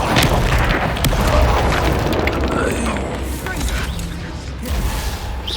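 Bombarda spell blasts in the video game Hogwarts Legacy, heavy booms and cracking bursts over a dense, loud rumble that fades slightly toward the end, with voices in the background.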